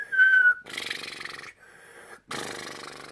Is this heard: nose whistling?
yes